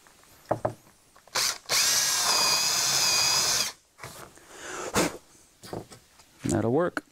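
A power drill drives screws into a garage workbench board in bursts: short whirs, then one long sustained run of about two seconds, then brief pulses, with a person talking between the runs.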